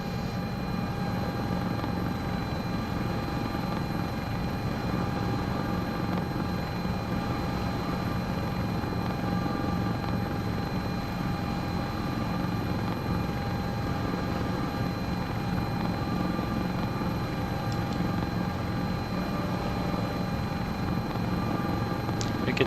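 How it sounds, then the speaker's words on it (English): CowanSim 76 helicopter flying low over mountain terrain in Microsoft Flight Simulator 2024, a steady loud rotor and turbine drone with constant whine, unbroken throughout with no speech. "It's not a mountain flying helicopter, but it can totally do it"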